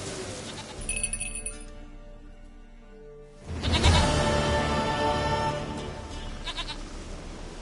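Goat bleating in The Witcher 3, a short high bleat early on, then a louder burst of bleating and rustling ambience from about three and a half seconds onward, with no talk.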